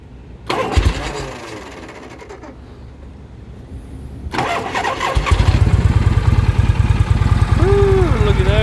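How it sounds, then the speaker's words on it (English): A Harley-Davidson FLH Electra Glide motorcycle cranks over with the choke on, then its engine catches and settles into a loud, steady, rumbling idle close by. A person talks briefly. "Hit the choke."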